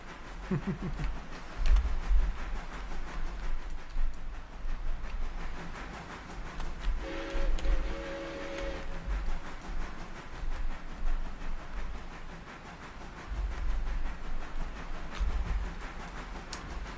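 A train rumbles past steadily with low, continuous rail noise and occasional clanking, with a brief horn-like tone in the middle.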